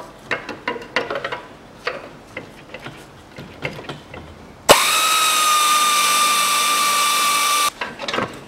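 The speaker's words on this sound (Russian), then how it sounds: "А дальше уже угловым гайковертом откручу." A cordless angle impact wrench spins up sharply and runs steadily for about three seconds while unscrewing a bolt under a 2005 Mitsubishi Minica 0.6, following a stretch of clicks and knocks from work on the car.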